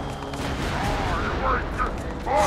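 Missile impacts and gunfire-like blasts in the Stranger's Wrath video game, a dense run of rumbling explosive hits that stays loud throughout, with brief bursts standing out near the end.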